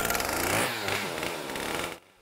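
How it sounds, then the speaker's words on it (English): A big chainsaw used by a wood artist roars loudly and steadily close by, its engine note shifting slightly before cutting off abruptly near the end. "The wood hunt starts with a big chainsaw."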